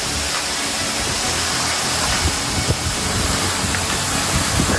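Todke Falls waterfall on the Chintaphu trek, a close, loud and steady broadband roar of falling and spraying water, continuous throughout with no voices.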